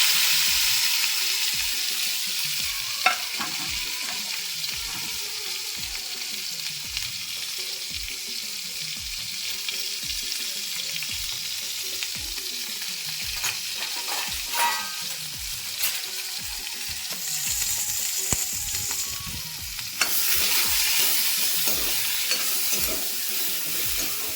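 Tomato chutney ingredients frying in hot oil in a kadhai, a steady close sizzle throughout with rhythmic scraping stir strokes and an occasional clink.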